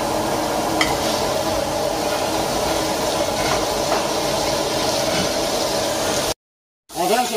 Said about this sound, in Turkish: Tavuğumuzu atıyoruz.